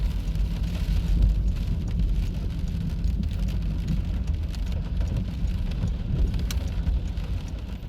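Steady heavy rain with wind and hail pours down with a constant dense hiss, rattling on surfaces and gusting slightly, heard during a drive, with no voices.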